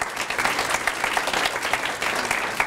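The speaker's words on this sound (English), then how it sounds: "So if we could just give a quick round of applause for them putting this event together." Audience applause for the organisers at a university Three Minute Thesis (3MT) competition, a dense, steady wash of many hands clapping throughout, fairly close and even in loudness, with no one speaking over it.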